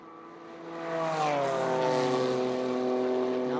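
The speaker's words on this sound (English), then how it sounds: "you can hear him get on the power so much sooner than Sean Quinlan" A GT America race car at Sebring raceway accelerates hard out of a corner, its engine note climbing and swelling in pitch and volume after a quieter opening second, heard from trackside at moderate distance.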